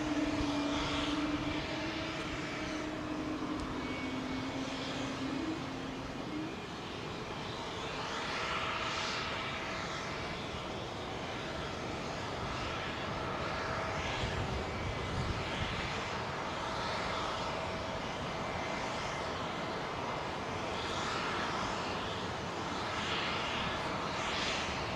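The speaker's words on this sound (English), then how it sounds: "I can hear an engine start from a long, long way away" Out at Heathrow Airport, a distant aircraft engine spools up into a broad, steady roar that holds for the whole stretch, with a low hum fading away early on beneath the constant wash of sound.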